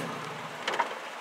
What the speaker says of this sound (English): I'm just gonna show you this rainstorm real quick. It's raining pretty bad.